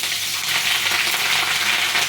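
Grated ginger sizzles steadily in hot oil in a wok with green chillies, a loud, continuous hiss with no pauses.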